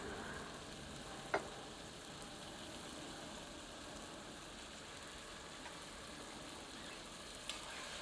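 Chicken sautéing with white rum over high heat makes a soft, steady sizzle at low volume, broken by a couple of brief clinks of a utensil against the pan.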